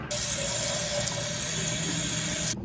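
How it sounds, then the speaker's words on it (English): Water running from a tap fills a 4-ounce bottle for a glue polymer experiment, a steady continuous hiss of flow close by that stops abruptly near the end, with no talking. "Now fill the 4-ounce bottle with water."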